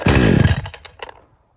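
A Hyundai HYC6200X 20-inch 62cc chainsaw, choke on, fires once with a loud, close burst of engine noise that sputters and fades out within about a second.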